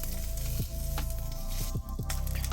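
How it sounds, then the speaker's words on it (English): Loud, steady sizzle of steak searing in a very hot pan greased with trimmed beef fat, crackling continuously with a few sharper pops. "we're going to start to sear the meat"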